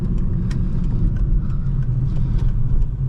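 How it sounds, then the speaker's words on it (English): A 2011 Volvo S40 T5 engine pulls hard under throttle during an in-car drive, a steady, dense low rumble filling the cabin without pause, with no talking. "Have to be careful with the throttle because the front tires do want to spin from all that torque"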